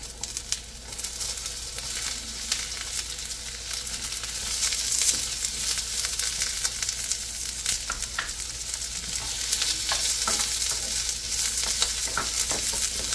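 Garlic and onion frying in a small pan, a steady close sizzle with faint crackles and occasional utensil taps, no voices.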